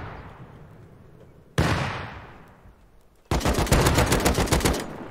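Grenade blast and gunfire in the survival game Rust: one loud sudden explosion that slowly decays, then a sustained rapid burst of close automatic gunfire, with brief quiet between them.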